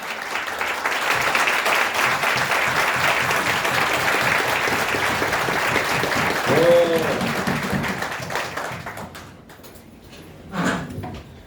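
Audience members at an indoor business presentation applaud, a steady spread of clapping hands that holds for several seconds and then thins out and fades, leaving a few scattered claps and faint room noise.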